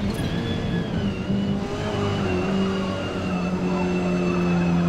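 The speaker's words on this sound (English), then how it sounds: "but listen to the tires chirping here" Tires chirp and squeal under understeer as a racing car in the Forza Motorsport video game holds a steady engine drone, the thin whining tones sustained across the clip.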